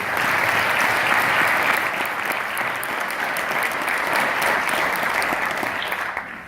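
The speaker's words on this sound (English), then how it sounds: "let's give a big round of applause again to our educators" An audience at a town hall meeting on Medicare and Medicaid breaks into sustained applause: dense, steady clapping from a crowd that holds for several seconds before starting to thin, with no talking over it.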